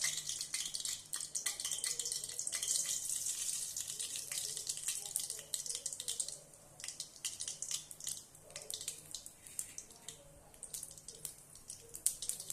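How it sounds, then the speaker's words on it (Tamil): Mustard seeds splutter in about three ladles of hot groundnut oil, a faint, irregular crackle of tiny pops that thins out over time against a quiet background. "கடுகு நல்லா பொரிஞ்சிருச்சு"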